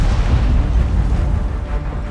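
A 128mm tank destroyer cannon fires in World of Tanks, a loud, close, deep boom with a rumbling tail that fills the moment.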